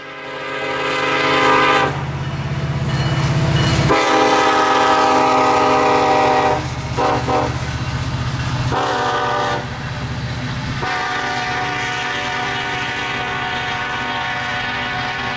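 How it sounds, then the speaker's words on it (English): BNSF coal train hauling TXU coal passes close by, with long loud horn blasts sounding in several bursts over the steady rumble and clatter of the cars. "The first of the pair was one of the multiple TXU coal trains"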